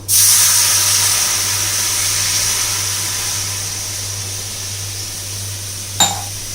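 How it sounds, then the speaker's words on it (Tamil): Water hisses and sizzles as it boils in a hot cast iron pan, the hiss slowly fading, with a single sharp clink near the end. "இப்போது இந்த அயன் கடாயில் நல்லா தண்ணி கொதிக்க ஆரம்பிச்சிருச்சு."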